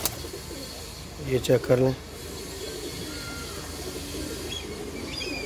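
Pigeons coo softly in a loft, a short burst of low cooing in the middle, with someone speaking quietly over it and faint background noise.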